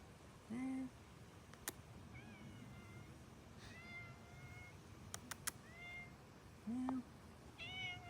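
A little cat near a 2025 Kia EV3 at night meows softly several times, short faint calls spaced apart, with a person nearby imitating the meows.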